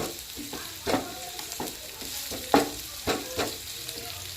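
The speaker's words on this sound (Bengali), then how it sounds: "এভাবে নাড়তে থাকবো" Onions sizzle softly in a pan for a red spinach dish while a spatula stirs them, producing irregular scraping knocks and clatters over a gentle frying hiss, close and fairly quiet.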